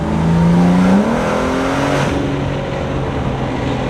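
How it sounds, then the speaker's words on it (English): BMW G80 M3 at the FL2K drag event, intake roaring under hard acceleration with a rising engine note that steadies into a loud sustained drone, close and continuous. "Intakes sound amazing."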